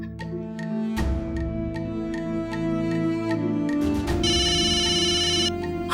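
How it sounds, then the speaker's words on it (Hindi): A telephone rings repeatedly in a home, a steady electronic ringtone over a music bed, with a bright, higher chirping ring pattern toward the end; no one speaks. "फोन उठाइए मम्मा"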